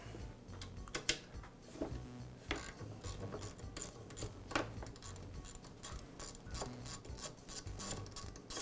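An idler pulley is worked off a DeWALT air compressor, giving a rapid series of close ratchet clicks and metallic ticks in an uneven rhythm, with no talking.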